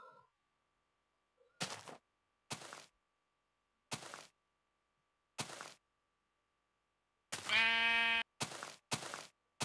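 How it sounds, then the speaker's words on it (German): Sheep in Minecraft bleating in short separate calls, about seven spaced bursts, with one longer drawn-out bleat near the end, clear and close against silence. "Dummes Schaf"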